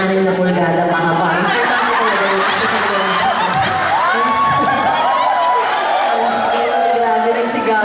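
Concert audience in New York shouting and cheering together, a loud continuous crowd roar with scattered laughs and chuckles layered through it, while voices call out over the noise.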